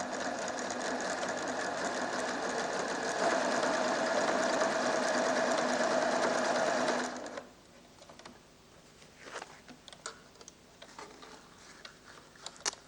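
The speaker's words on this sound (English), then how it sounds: "Here I am sewing with the wing needle and stitch number 15." A PFAFF creative 1471 sewing machine stitches fabric with a wing needle on decorative stitch 15, a loud, steady, rapid mechanical whir for about seven seconds. It then stops, leaving faint clicks and handling noises.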